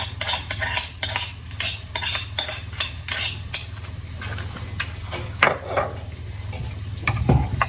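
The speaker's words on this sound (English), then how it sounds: "I'm gonna add the rest of the garlic in. Garlic and shallots in." Garlic and shallots fry in a pan with chicken pieces, a soft sizzle under frequent scraping and tapping of a utensil against the pan, with clattering knocks near the end and no speech.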